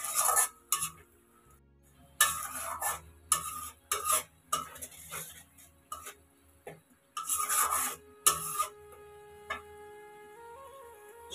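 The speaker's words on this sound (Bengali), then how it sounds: "এখন এই মশলাটাকে ভালো করে কষিয়ে নেব।" Ground cumin and coriander masala for a katla fish curry being stir-fried in a pan, heard as bursts of rasping, scraping spoon strokes separated by short pauses, close and fairly loud.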